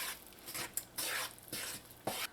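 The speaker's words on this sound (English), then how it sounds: "all you're going to do now is mix your flour into your ghee" Flour being stirred into ghee in a pot, heard as soft, repeated scraping and swishing strokes at close range, each stroke a brief rustling burst with short pauses between them.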